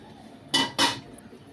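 A metal lid goes onto a pot of curry with two quick, close clanks about a quarter-second apart. Each clank rings briefly before dying away, with little else heard.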